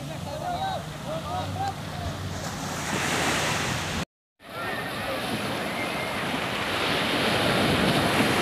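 Sea waves rolling onto the beach at Cox's Bazar, a steady broad wash of surf with wind buffeting the microphone and a short dropout midway.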